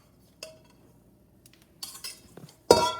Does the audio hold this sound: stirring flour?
yes